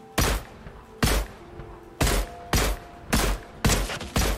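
Loud, close gunfire in the Fortnite video game, heard as eight sharp bursts in an uneven rhythm with short gaps between them and no talk.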